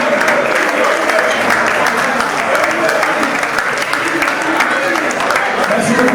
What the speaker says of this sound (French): des applaudissements pour le message de la lumière